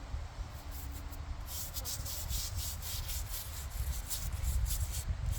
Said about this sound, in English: So you can rinse and scrub at the same time.